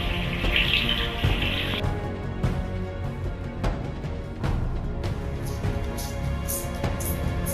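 Water runs steadily from a tap, splashing in a sink while hands rub beneath it, with a few soft knocks and clatters.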